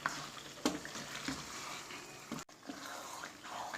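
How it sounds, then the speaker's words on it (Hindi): Spinach frying with browned mutton in a pan, a soft steady sizzle with occasional stirring clatters, close and fairly quiet, with no talking. "7 से 8 मिनट पालक को भूनेंगे।"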